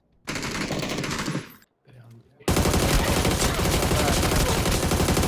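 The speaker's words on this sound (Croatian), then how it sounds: "Pucaju nas tu sa desne strane." Automatic gunfire in a video game shooter rings out in two bursts, a dense burst of rapid shots followed by a brief pause and then a longer, louder, sustained volley.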